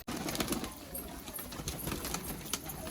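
Malwai pigeons at a loft near Dhamua station coo in a steady, close murmur across the whole stretch, with dense flock chatter and soft rustling underneath.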